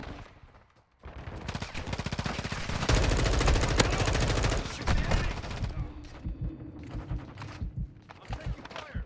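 Video game gunfire in a tactical shooter, with loud rapid automatic bursts near the start, then scattered shots and short bursts, close and dense, alongside game effects.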